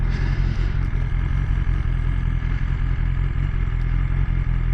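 A 2020 BMW S1000XR motorcycle engine runs close by with a steady, continuous mechanical roar and a faint clattering texture, no voices present.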